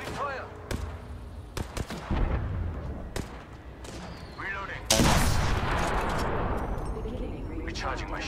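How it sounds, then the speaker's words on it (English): Video game gunfire: several sharp shots and blasts, including a loud burst midway followed by a sustained rumble, with occasional game voices mixed in. "Opening fire!"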